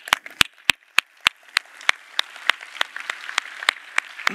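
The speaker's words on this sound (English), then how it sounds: "I would like to give a big applause to the event team and the design team" At the code.talks 2019 conference opening, a few audience members clap for the event and design teams. The claps are sharp and spaced, coming slightly faster and blending into light scattered clapping toward the end.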